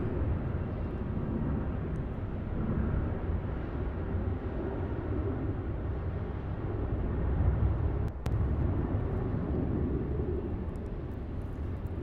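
A Qantas Boeing 787 airliner at Melbourne Airport gives off a steady, broad jet roar that stays at an even level throughout, with one brief click partway through.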